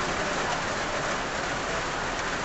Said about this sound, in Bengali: দেখতে পাইলাম বৃষ্টিটা নামছে